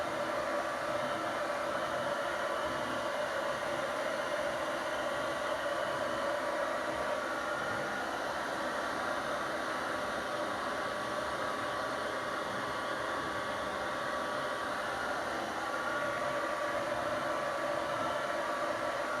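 A hair dryer blows steadily while drying hair into a pompadour, a constant, even airy whir with a hum, running unbroken for nearly twenty seconds without any talk.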